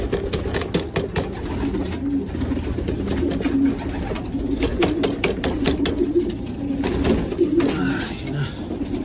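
Racing pigeons at rest coo continuously, with soft layered calls from several birds close by and a constant background murmur of the flock.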